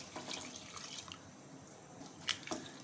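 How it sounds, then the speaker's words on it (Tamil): Water is poured onto rice in a pot while making soya biryani, producing faint, quiet splashing and trickling with a few sharper drips. "தண்ணி ஊற்றிக்கலாம்."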